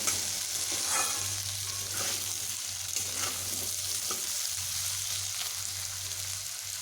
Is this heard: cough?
no